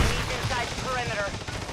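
Bursts of rapid gunfire in Call of Duty: Warzone, close and steady, with an automated in-game voice calling out over the shooting.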